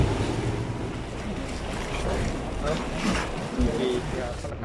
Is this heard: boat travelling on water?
yes